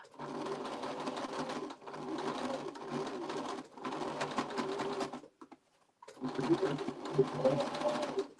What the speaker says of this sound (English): as I sew over the side seams, I'm just going to open them up